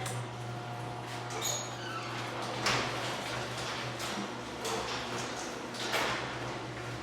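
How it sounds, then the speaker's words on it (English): A garage door driven by its opener travels along its track, a steady low motor hum with faint ticking and rattling from the moving panels, close and continuous with no talk. "I'll run the other door back up"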